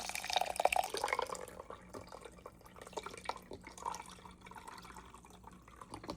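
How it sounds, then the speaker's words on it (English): Beef broth poured into a bowl and stirred while making pot roast, a quiet splashing trickle at first, then faint soft liquid swishes and clinks, close and low. "I'm mixing 2 cups of beef broth in here"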